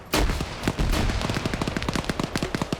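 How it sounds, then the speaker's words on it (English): Video game battle with grenades going off: a couple of heavy blasts open, followed by rapid, steady bursts of gunfire rattling on, loud and close, with no talk. "More grenades going over."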